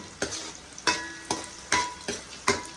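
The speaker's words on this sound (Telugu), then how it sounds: "ఇంకా నేను ఉల్లిపాయలు అయితే వేగిపోయినాయి" Onions fry in groundnut oil toward golden brown, with a steady sizzle broken by about five sharp stirring scrapes at an even pace, close and fairly loud with no talk.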